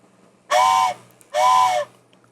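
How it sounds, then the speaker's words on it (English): A toy train whistle sounds twice, two short shrill blasts of about half a second each with a brief gap between them, loud and close against a quiet background. "I am loving my new train whistle."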